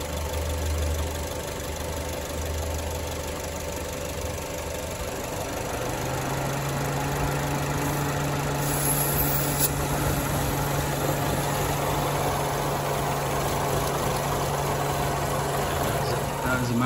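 Car engine idling roughly with a massive vacuum leak, a steady low drone with an uneven, knocking pulse that shifts pitch midway, heard close up without voices.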